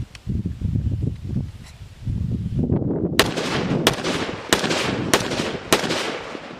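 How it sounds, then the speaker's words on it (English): A Ruger SFAR .308 rifle with a muzzle brake fires five sharp, loud, close shots at roughly even intervals, following a stretch of rustling handling noise. "And while you know you're shooting 308, I mean, there's no doubt."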